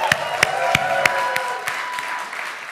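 An audience applauding at a collegiate invention competition finals, a dense burst of clapping that starts loud with sharp individual claps and gradually thins out over a few seconds.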